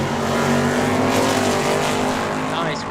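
A drag racing car launching wheels-up down the strip at Tucson Dragway, engine roaring loud with tire squeal as it pulls away, while an announcer talks over it.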